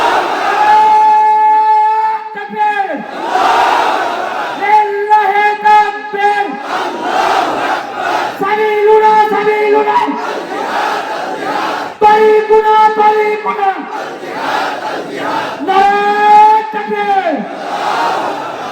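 A large crowd at a Bengali Islamic religious gathering chants the takbir, "Allahu Akbar," loudly and in unison, call after call in a steady rhythm, echoing over an outdoor sound system.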